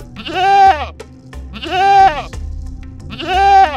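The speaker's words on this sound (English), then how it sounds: "Mountain goat." A mountain goat bleats three times in a row, each call a loud, close, wavering cry about a second long, separated by short gaps, with no talking.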